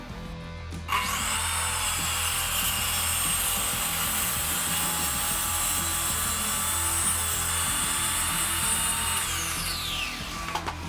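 A Mafell MT 55 CC plunge circular saw rips lengthwise along a wooden board, a high steady whine that starts abruptly, holds loud and close for about nine seconds, then winds down.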